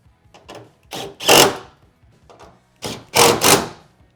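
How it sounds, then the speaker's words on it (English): 10 mm bolts being driven back into a Toyota Tacoma's truck bed with a power tool, short whirring, rattling bursts in two clusters, each with a louder run at the end, close by. "Throw our 10 millimeter bolts back in."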